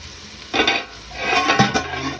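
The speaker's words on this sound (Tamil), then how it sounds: "வெங்காயம் கொஞ்சம் சீக்கிரமாக வதங்கிறதுக்காக சால்ட் ஆட் பண்ணலாம்." Onions sautéing with salt in a pan for a pumpkin chicken curry give a sizzling, stirring sound. Scraping bursts rise and fall, close and moderately loud, with no voices.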